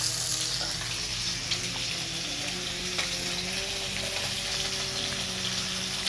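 Bhola fish frying in a pan, with a steady close-up sizzle and crackle and a faint background hum, continuous throughout and with no talking.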